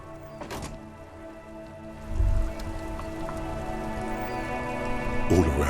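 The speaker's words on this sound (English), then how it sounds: "All around you, rain falls on the great city of Revachol." Rain falling steadily across the city of Revachol in the video game Disco Elysium, a soft continuous patter under a low hum, with a brief louder swell midway and a stronger burst near the end.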